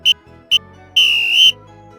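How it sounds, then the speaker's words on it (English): A whistle blown three times: two short sharp toots followed by one longer sustained blast, loud and close with nothing else heard. "blowing his whistle 3 times"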